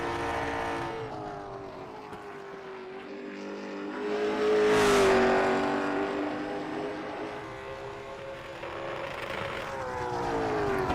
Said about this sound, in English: Lots of rev limiter there